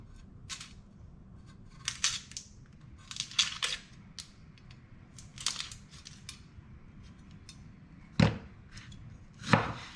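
Knife chopping onion on a cutting board, with irregular sharp taps and crunchy cuts spaced through the stretch, some louder strikes near the end, fairly close with no talk.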